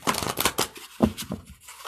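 Oracle cards are shuffled in quick riffling bursts, close and crisp, with short pauses between flurries.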